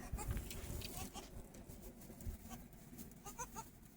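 Baby goats at a goat refuge in Escambia Lakes, faint scattered bleats over low rustling and handling noise, some quick calls clustered near the end.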